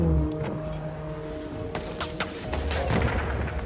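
Scattered gunfire in the video game Battlefield 1, a few sharp shots and short bursts cutting through a low rumbling battlefield background, with no talk over them.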